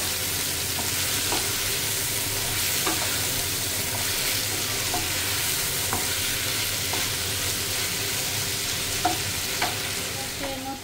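Vegetables stir-fry in a pan with a constant soft sizzle, while regular scraping and clanking strokes of the spatula repeat every second or so, close up without any voices.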